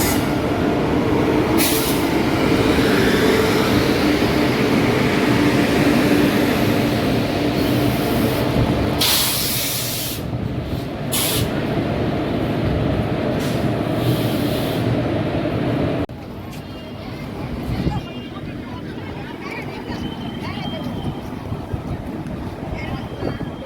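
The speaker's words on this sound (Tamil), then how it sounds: "நம்ம ட்ரெயின் அரைவ் ஆகிடுச்சு" Lalbagh Express (12607) passenger train pulling into a station on the Chennai Central to Bangalore route, a loud continuous rumble and rush of rail noise with wind buffeting, easing after about sixteen seconds into quieter platform ambience.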